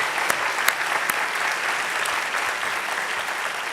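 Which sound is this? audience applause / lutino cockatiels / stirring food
audience applause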